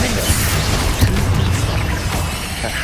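A Confringo fire spell blasts in Hogwarts Legacy, a dense, booming burst with crackling impacts layered over steady game noise, loud and continuous throughout.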